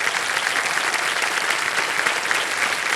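Steady, dense applause from a studio audience at the Hindi quiz show KBC, loud and continuous across the whole stretch with no talk over it.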